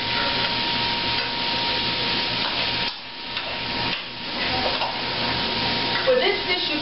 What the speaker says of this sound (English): Everything is sauteing together now